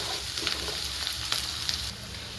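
Grated ginger and chopped garlic fry in hot oil with a steady, close hiss, broken by a few soft scraping stirs of a utensil in the pan for a one-pot chicken dish.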